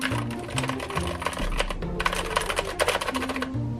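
Plastic keycaps are pulled and swapped on a Keychron K8 optical mechanical keyboard, giving rapid close clacks and clicks in irregular bursts, loud and alone.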